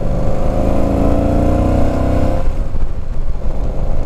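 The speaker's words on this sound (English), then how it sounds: "It's a 950 V-twin," A 950 V-twin motorcycle engine revs loud and close, a rising harmonic tone for about two seconds that then drops back to a rough, throbbing idle.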